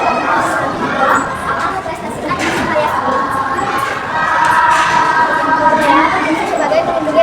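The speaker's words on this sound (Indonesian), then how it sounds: "Kita tepuk tangan ya buat kelompok." Children in a classroom break into loud, sustained cheering and clapping for a student group after their presentation, a dense crowd noise with shouting voices throughout.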